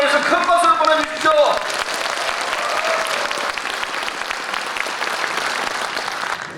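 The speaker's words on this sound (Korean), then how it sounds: "여러분, 김경엽 의원을 위해서 큰 박수를 보내주십시오." A crowd at a National Assembly member's legislative report meeting bursts into loud applause, opening with voices and cheers over the clapping, then settling into steady, dense clapping.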